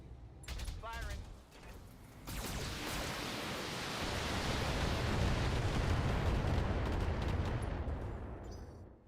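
Heavy weapons firing from a battle mech in a video game, a few sharp blasts followed by a long roaring wash of sustained fire that swells and fades, with voices speaking in the mix.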